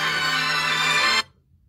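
A phone ringtone plays loud and steady for just over a second, then stops abruptly, leaving quiet background.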